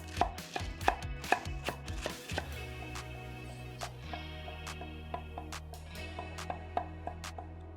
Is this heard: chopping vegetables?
yes